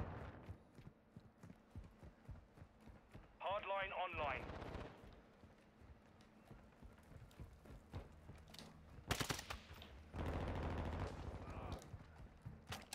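Gunfire in Call of Duty Modern Warfare 2 multiplayer, with bursts of shots spread through the round, a loud crackling volley late on, and other game effects under occasional talk.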